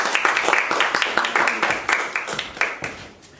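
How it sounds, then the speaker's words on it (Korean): A seminar group of church teachers gives an encouraging round of applause, many hands clapping quickly and evenly for a few seconds before it tapers off. "우리 같이 서로 그냥 격려의 박수 해볼까요?"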